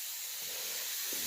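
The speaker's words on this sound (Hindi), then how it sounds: "और सीटी भी आ गई भात पे।" A pressure cooker cooking rice lets off a loud, steady hissing whistle of escaping steam, close and continuous without talk, in a village kitchen in the hills.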